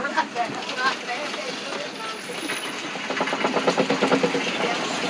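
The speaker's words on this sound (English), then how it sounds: "Very shaky vehicle." Old, shaky ride vehicle at Disney's Animal Kingdom rattling and clattering in a quick uneven rhythm that builds toward the end, with people talking over it.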